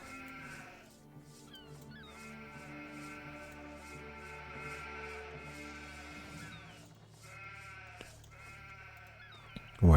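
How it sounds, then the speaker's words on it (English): Sheep bleating in the Anno 1503 History Edition strategy game, a few distinct bleats standing out over steady background game music and ambience, fairly clear and alone without speech. "Or is that? No, that's a sheep."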